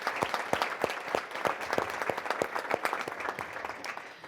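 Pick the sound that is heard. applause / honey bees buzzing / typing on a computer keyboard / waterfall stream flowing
applause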